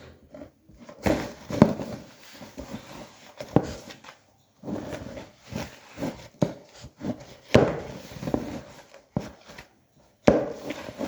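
Mandazi dough kneaded by hand produces soft, irregular thumps and dull slaps against a work surface, close and moderately loud, repeating unevenly with brief pauses between pushes.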